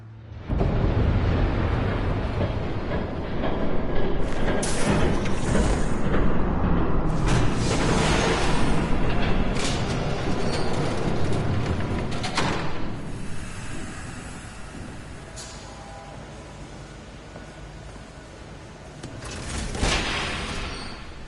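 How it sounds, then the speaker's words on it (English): Passing train in a Batman video game: a loud, sustained rumbling roar that swells and fades over about twenty seconds, with hissing bursts, heard alone without speech. "There's a train coming."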